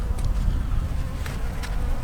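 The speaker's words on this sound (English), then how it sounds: "they're from my hive. They're just buzzing around." Honey bees from a winter-struck hive buzz around outdoors, a loud, close, continuous hum with a few brief higher flits passing by, no talk.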